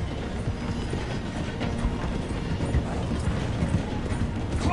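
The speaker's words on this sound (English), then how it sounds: "The train is slowing down to go through the station." A train rolls slowly through a station, a steady loud rumble with rhythmic clattering of wheels over rail joints throughout, with no talk over it.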